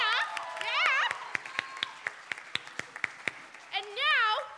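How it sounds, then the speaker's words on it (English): Sparse, evenly spaced handclaps from a school coffeehouse show audience, with whoops or cheering voices at the start and end. "Round of applause for Jimena."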